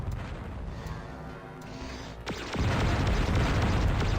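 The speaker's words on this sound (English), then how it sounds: "I'm going to see if I can blow these guys up and destroy enough that" Heavy booming explosions roar through Descent as enemies are blown up, a sustained rumbling blast followed by a second, louder wall of detonation noise.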